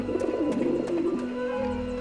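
Pigeon cooing in the video game Grim Fandango, soft repeated coos over a low hum and background game ambience, moderately close and fairly quiet.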